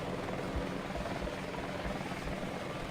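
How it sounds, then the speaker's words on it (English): Mi helicopter in Battlefield Vietnam flying close by, a loud continuous rotor drone with steady low thumping blade beats throughout, no talk. "For now I'm going to come in with the MI helicopter"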